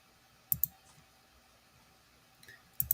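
A computer keyboard gives a few sharp, close clicks in two short bursts about two seconds apart, with quiet room tone between them.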